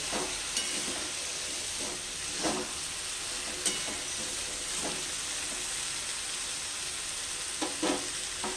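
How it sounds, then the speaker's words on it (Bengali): Vegetarian bottle gourd curry (lau ghonto) sizzles steadily in a pan while a spoon stirs it in repeated scraping strokes, with a soft hiss of steam underneath and no talking. "এবার ভালো করে একটু নাড়াচাড়া করতে হবে"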